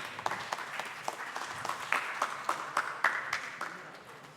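An audience at a nature photography club's annual day in a museum hall applauds, a moderate, continuous patter of clapping with several crisp individual claps punctuating it.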